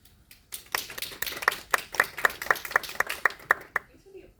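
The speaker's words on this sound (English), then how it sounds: "Thanks for the applause, guys." An audience at a lecture applauds with a brisk run of crisp, evenly spaced claps that build, hold for a few seconds, then stop.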